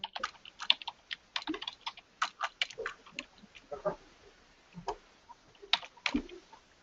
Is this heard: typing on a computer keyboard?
yes